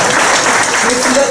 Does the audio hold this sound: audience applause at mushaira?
yes